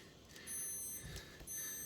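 Faint high-pitched electronic beeps from an appliance, two tones sounding a couple of times against a quiet background.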